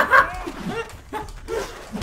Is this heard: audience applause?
no